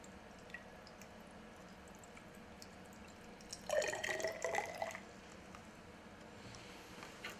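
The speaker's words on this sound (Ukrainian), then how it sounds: "Нальємо у мензурку воду, виміряємо об'єм налитої води." A short burst of water pouring and splashing into a measuring cylinder, lasting about a second amid a quiet, faintly hissing background.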